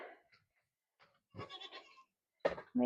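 A few short goat bleats close by, separated by moments of near silence, the last two coming quickly one after the other.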